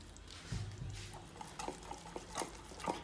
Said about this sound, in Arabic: كنخلطوه مزيان